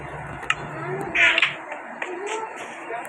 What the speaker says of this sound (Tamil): பூனை ஓட்டு பாருங்களேன். குட்டி பூனை.